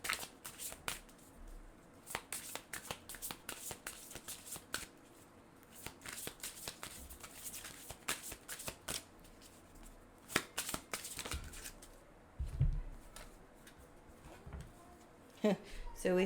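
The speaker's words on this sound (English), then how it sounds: "we're going to go ahead and pull a couple oracle cards" Oracle cards are shuffled by hand in soft, steady riffling and slapping bursts, close and fairly quiet, with brief pauses between handfuls.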